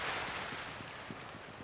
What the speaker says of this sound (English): The waves are fierce.